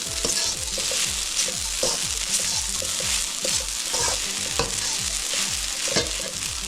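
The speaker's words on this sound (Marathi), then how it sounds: "चांगली हलवली, कमी गॅसवर झाकण ठेवून परतून घ्यायची." Sabudana khichdi with dried red chillies is stirred in a pan, a spoon scraping in a regular rhythm of repeated strokes over a continuous close sizzle.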